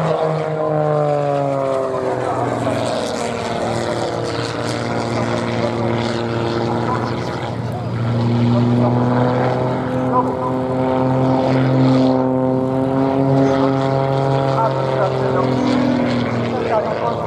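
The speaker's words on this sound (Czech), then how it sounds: "Tento letoun, letoun Extra 300, je schopen kolem podelné osy udělat otočku za jednu vteřinu" An Extra 300 aerobatic propeller plane drones steadily overhead at an air show, its engine pitch rising and falling through long sweeping passes, loud and continuous.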